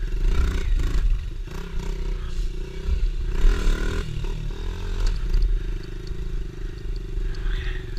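Motorbike engine rumbling steadily while riding off-road through woods at night, close and fairly loud with clattering and scraping over rough ground.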